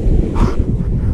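Wind gusts across a microphone at a riverbank on the Langat River in Banting, a loud low rumbling buffet with a brief brighter gust in the middle.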